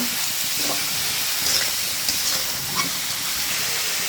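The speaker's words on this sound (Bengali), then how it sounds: "সবজিটা আমি তেলে একটু ভেজে নিচ্ছি" Vegetables fry in hot oil with dried shrimp, a loud steady sizzle and hiss filling the whole stretch up close, with no voices.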